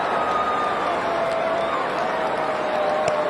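A packed Eden Gardens cricket crowd at an India vs Australia one-day international applauds Virat Kohli as he walks off after his dismissal for 92, making a steady, dense roar of clapping and cheering that fills the stadium without a break.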